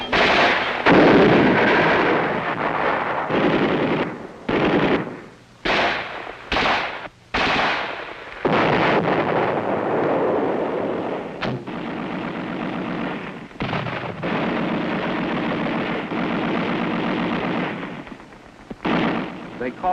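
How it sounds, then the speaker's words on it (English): Infantry company firing rifles, grenades, machine guns and mortars all at once in a Mad Minute, a dense, continuous roar of overlapping gunfire bursts and blasts, loud and sustained, with a few brief lulls. "Everything cuts loose. Rifles, grenades, machine guns, mortars, the works."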